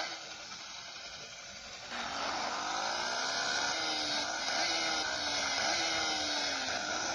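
A motorcycle engine runs steady and loud, swelling to a higher rising roar after about two seconds with repeated revs climbing in pitch, close by and without talk.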